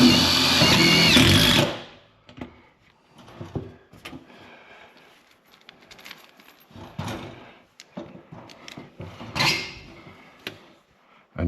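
A power drill drives self-drilling screws into tin sheeting on an upper woodshop wall: a loud, close whirring burst for about two seconds, then quieter scattered knocks and handling clatter.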